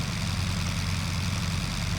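Fokker Dr.1 triplane rotary engine taxiing in Flight Simulator 2020, a steady low droning rumble with a faint rhythmic pulse, continuous and moderately quiet.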